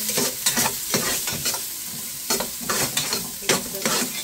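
Onion and garlic fry in olive oil in a pan, a steady sizzle broken by repeated sharp scraping strokes of a spoon stirring, close and fairly loud with no talking.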